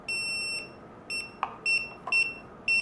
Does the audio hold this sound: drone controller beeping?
yes